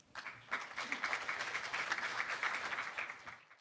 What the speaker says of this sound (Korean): 큰 박수로 김동현 박사님을 맞아주십시오.